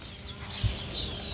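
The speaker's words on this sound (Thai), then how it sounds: "อันนี้จะเป็นไก่กระดูกดำจ้ะ" Black-bone chickens clucking on a rural farm among rice fields, a soft short cluck rising briefly over steady outdoor background noise.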